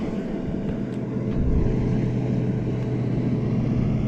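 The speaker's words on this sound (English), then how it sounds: "Little 26 Jupiter, 300 Yamaha on the back with the weight outboard" A Jupiter 26 center-console boat with a Yamaha 300 outboard and a tower cruises past on a fishing flat, its low steady engine drone and hull rumble holding loud and close throughout with no talk.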